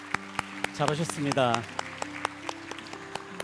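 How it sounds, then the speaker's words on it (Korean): Congregation applauding during a Korean church worship service, scattered claps fairly close, partly under someone speaking. "우리 서로에게 박수로 격려하도록 하겠습니다"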